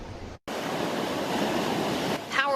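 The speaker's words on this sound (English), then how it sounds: "Powerful waves continue to slam the Laguna Beach shoreline" Heavy ocean surf pounds the Laguna Beach shoreline in a steady, loud roar of churning water after a brief moment of quiet.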